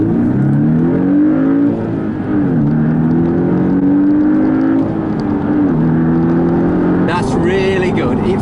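A Porsche 718 Boxster with the roof up accelerates hard in Sport Plus mode, its engine note climbing steadily through the gears with brief dips at each shift, loud and close from inside the cabin.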